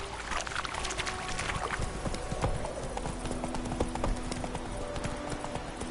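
Roach, a horse in The Witcher III video game, clip-clops along at a steady walking rhythm, hoofbeats close and continuous over ambient outdoor sound throughout.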